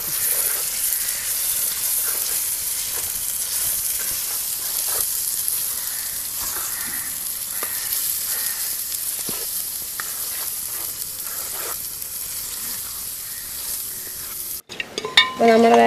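Beef roast stir-frying in a pan gives a continuous loud sizzle with spatula scrapes and stirring over nearly sixteen seconds, cutting off abruptly near the end, with no talking.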